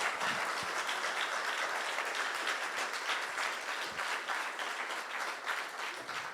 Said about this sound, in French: J'aimerais un banc d'applaudissements pour son futur mariage.